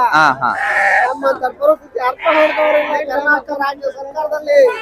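Goats and sheep bleat loudly and repeatedly close by at a livestock market, overlapping cries in a lively farmyard, with people talking among them.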